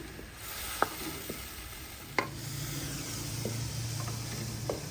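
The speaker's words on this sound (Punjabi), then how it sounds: "ਮਿਰਚ ਦਾ ਮਸਾਲਾ ਮੈਂ ਚੰਗੀ ਤਰ੍ਹਾਂ ਭੁੰਨ ਲਿਆ ਵਾ" Chili spice masala roasts in a pan, giving a steady, close sizzle with a few sharp clinks and taps from stirring scattered through it.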